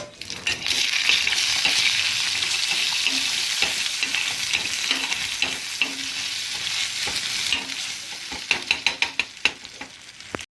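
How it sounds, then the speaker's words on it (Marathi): Leftover egg bhurji being reheated on a tava griddle while a fresh egg is stirred in, with a steady close sizzle and frying hiss under continuous scraping and stirring, ending in a run of sharp spatula taps against the pan. "रात्रची भुर्जी आहे. थोडीशी हात तव्यावर आपण गरम करू. रात्री भुर्जी बनवली होती कशाला फेकून द्यायची. त्याच्यामध्ये एक अंड टाकून मिक्स करू आपण."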